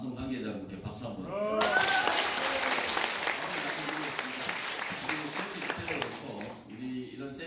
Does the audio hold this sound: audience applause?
yes